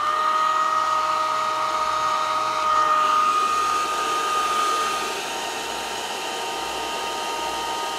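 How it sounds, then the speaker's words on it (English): A hair dryer blows continuously with a steady whir, close up, aimed into an open refrigerator to thaw a frozen water dispenser, its pitch dipping slightly partway through before settling. "I'm going to hit it with the hairdryer."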